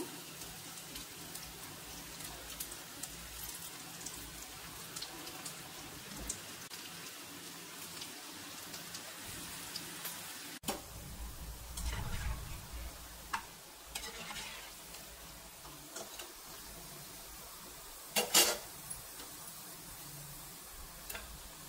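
Small pieces of soft pakodi batter sizzle in hot oil for street-style pakodi, a faint, steady crackle with scattered pops and a louder burst near the end, no voices.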